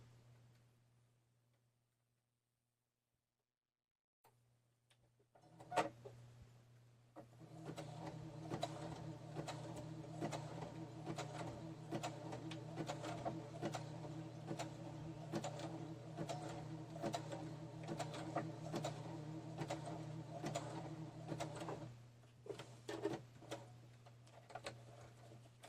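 A sewing machine stitches a zigzag seam on a slow-stitched junk journal page, a steady rapid mechanical ticking that runs continuously for about fifteen seconds after a brief start, close and clear with no talking.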